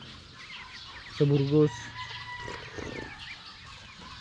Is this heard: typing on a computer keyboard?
no